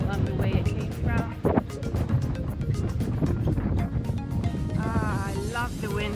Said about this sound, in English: I love the wind today because you don't realize just how hot it is.